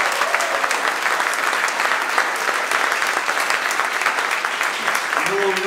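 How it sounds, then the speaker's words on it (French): A big round of applause from a crowd at a gathering in Estrie, Quebec, a thick continuous roar of clapping throughout, with a voice starting to speak just at the very end. "on va déjà faire un tonnerre d'applaudissements pour l'équipe de Réinfo Québec qui organise tout ça"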